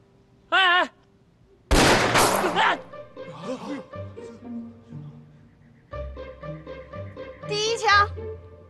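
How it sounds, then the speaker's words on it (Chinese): A gunshot in a kung fu film set in wartime: a single loud, sharp broadband burst followed by rumbling decay, between raised voices of people talking before and after. "站好了，我要开枪了。"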